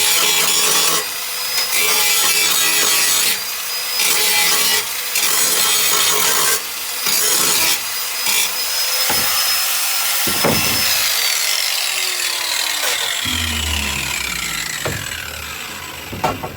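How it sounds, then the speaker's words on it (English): Angle grinder fitted with a cutting disc grinding on metal cross bracing of a Toyota 80 Series cab, loud and close with a steady harsh whine broken by short pauses, the pitch sagging as the disc slows near the end. "let's get this grinder going"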